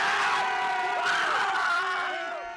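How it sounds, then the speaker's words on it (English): Anti-abortion activists in Poland cheer a top court ruling as a crowd, with overlapping shouts and whoops at steady volume, tapering slightly toward the end. "Anti-abortion activists cheer the ruling"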